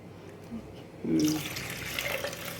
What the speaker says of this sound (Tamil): இப்போ இதில் தண்ணி நம்ம ஆட் பண்ண போகிறோம்.